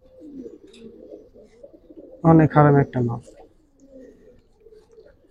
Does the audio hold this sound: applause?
no